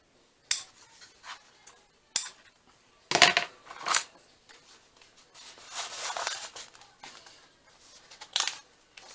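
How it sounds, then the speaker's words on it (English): Scissors snip through sewing thread on a junk journal, a handful of short crisp cuts and small clicks spaced apart, close and quiet against a near-silent room. "I'm going to cut some of this thread off."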